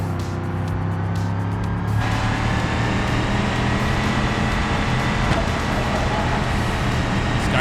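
A Mercury Crown Victoria-style car in the BeamNG driving game, its engine a loud, steady low rumble that builds slightly after a shift, continuous throughout with road noise and no talking.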